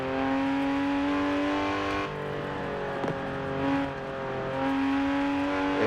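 A car engine in Forza Horizon 4 holds a steady high rev with a brief dip and pop near the middle, loud and close with no voices.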